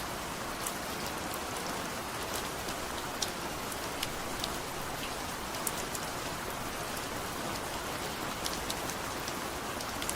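Heavy rain pouring steadily during a storm in Balasore, a dense, continuous hiss with scattered sharper drops pattering on surfaces, no voices.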